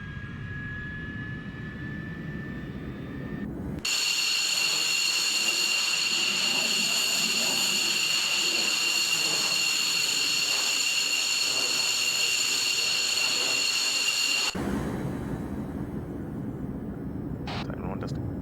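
An aircraft engine spools up in Arma 3: a loud, sustained whine with steady high tones kicks in abruptly and holds for about ten seconds before cutting back to lower engine noise.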